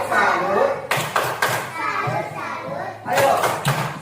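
A class of children performs the 'tepuk salut' clapping cheer, with bursts of rhythmic hand claps and thumps amid young voices chanting and shouting close by.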